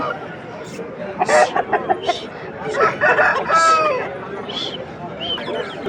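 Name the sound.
rooster crowing at Vijayawada chicken market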